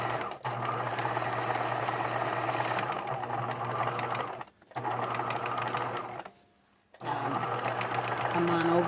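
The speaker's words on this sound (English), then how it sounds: "Now, I don't want to sew backwards along that edge" A sewing machine stitches a patch onto ripped jeans, running in long steady bursts with two short pauses where the motor stops before starting up again.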